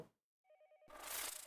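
A telephone in the horror video game Yomawari: Night Alone rings in a short electronic trill after a moment of silence, then a burst of harsh noise takes over, faint overall.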